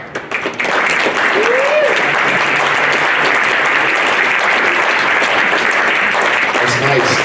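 An audience at a school fall sports meeting breaks into loud, sustained applause as coaches come forward, with brief talk just before the clapping starts.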